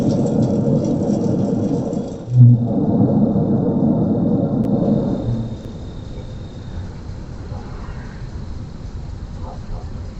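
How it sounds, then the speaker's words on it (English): A low, heavy hum reported by residents of North St. Louis County drones steadily in the background, louder at first with voices over it, then fading to a fainter rumble. "you can hear the same hum in the background."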